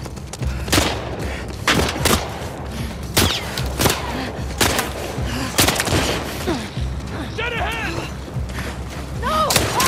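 Gunfire in The Last of Us Part II: loud shots and booming bursts fire in quick, irregular succession over about ten seconds. Shouted voices break in between the volleys near the end.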